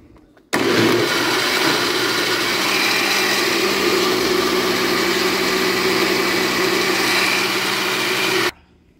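An electric mixer quickly beats cornmeal cake batter with fennel seed and baking powder, a loud steady whirring motor that starts abruptly, runs evenly for about eight seconds and cuts off sharply.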